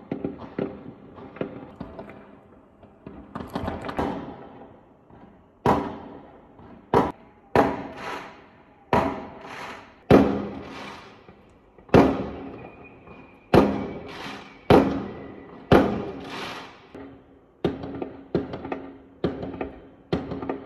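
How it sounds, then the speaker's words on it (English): Fireworks burst outdoors, recorded on a phone: a rapid series of sharp, loud bangs and thuds at irregular intervals, each trailing a brief crackle, with no talking. "I did, however, get a couple of clips of the fireworks on my phone"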